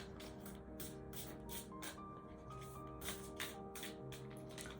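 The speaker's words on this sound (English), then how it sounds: "Two more shuffles." Tarot cards shuffled by hand in a series of soft, rhythmic riffles and slides, very faint and close, over a quiet background hum.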